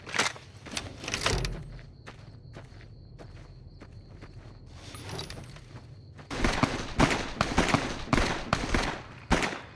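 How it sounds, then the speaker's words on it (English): Gunfire from a distant firefight in Fallout New Vegas, a burst of sharp shots in the second half after quieter footsteps and movement, with no talking. "I hear a lot of gunfire up ahead"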